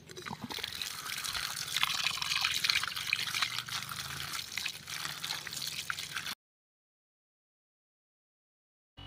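Guavas being washed in water, a steady close trickle and splash of running water with small drips that stops abruptly, followed by silence.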